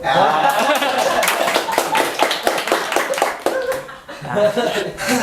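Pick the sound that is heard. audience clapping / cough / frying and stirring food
audience clapping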